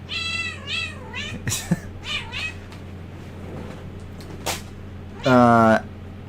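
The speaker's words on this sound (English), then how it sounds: "This is one of my cats that you hear in the background probably" A pet cat meows repeatedly in the background during a development stream, a run of wavering meows followed by a louder drawn-out one near the end, under a quiet voice.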